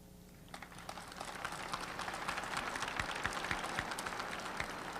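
Audience applause at an Ayn Rand talk: a dense patter of many hands clapping that starts after half a second, swells and stays steady to the end, with scattered sharper claps standing out.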